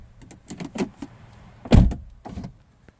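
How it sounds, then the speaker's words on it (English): A B8/B8.5 Audi RS5 is switched off and a door is opened: a series of soft clicks and mechanical taps leads to a louder, close thunk of the door latch, then fainter rattling that dies away. "So you want to turn it off and then open the door."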